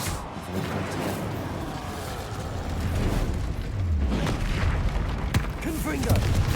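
Confringo explosive spells in the video game Hogwarts Legacy go off as deep booms and blasts over a rumbling battle, with a person speaking throughout.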